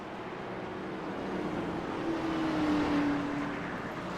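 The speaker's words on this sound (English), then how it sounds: "Pace car gets rolling." A pace car rolls off on an Iowa race track before a 14-car field, a steady engine drone rising slightly over four seconds with a faint tonal whine, heard at a distance without talk.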